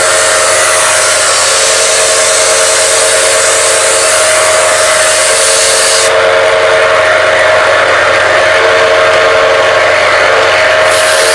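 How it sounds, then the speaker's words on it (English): A milling machine routs a skunk stripe channel into a guitar neck in a shop, a loud, steady high-pitched whine with tonal bands that holds throughout, its brightness dropping partway as the cut changes, with no talking. "Here's my dad, Wayne Charvel, milling out a skunk stripe on one of our necks"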